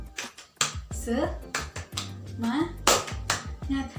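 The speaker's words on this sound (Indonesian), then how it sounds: "kita tepuk semangat dulu yuk" A primary school class doing the 'tepuk semangat' spirit clap, sharp rhythmic hand claps in a patterned sequence mixed with children's voices chanting along, close and lively.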